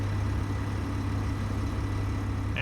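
Truck engine idling in Space Engineers: a continuous low, rumbling hum with a steady droning pulse, close and even throughout.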